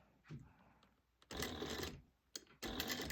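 A sewing machine stitching a seam on a crossbody bag runs in two loud bursts with short pauses between them, after a few faint taps and handling noises.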